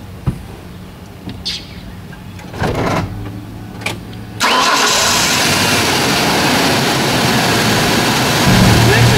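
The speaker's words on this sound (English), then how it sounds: "Have somebody start the vehicle for you while you listen at the engine" A few clicks and cranking sounds, then a car engine catches and settles into a loud, steady idle up close.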